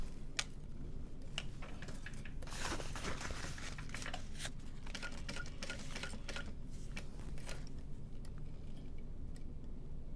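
A sewing machine stitches steadily through the layers of a bowler bag, a continuous close mechanical whir with rapid ticking needle strokes and a few sharper clicks, no talking.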